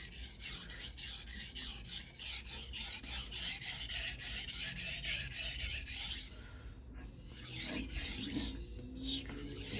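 Steady rhythmic rasping of a ZDP-189 core steel bunka knife being sharpened on a Suehiro 1000/6000 grit combination whetstone, close and even strokes continuing throughout with a brief change in texture near the end.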